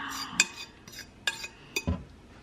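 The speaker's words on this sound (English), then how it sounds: "We're gonna go back into the pot to get everybody coated in that sauce." Shredded pulled pork is stirred into barbecue sauce in a metal pot, a few scattered scrapes and clinks of a utensil against the pot, fairly quiet and close, without talking.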